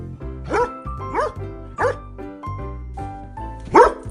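A farm dog barks about five times in a fairly regular rhythm, sharp and close, with the last bark loudest, over upbeat background music.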